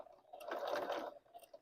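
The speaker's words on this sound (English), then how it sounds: "what do you think happens on this old Singer sewing machine when you don't put your foot down? It'll sew." An old Singer sewing machine runs in one steady, close burst of stitching that swells and then fades, with a brief mechanical whir at the end and no voices.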